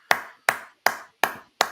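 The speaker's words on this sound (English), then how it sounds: "Round of applause for our government" Five sharp, separate hand claps ring out at an even, slow pace with short decays and silence between them, at an event marking a one-year anniversary.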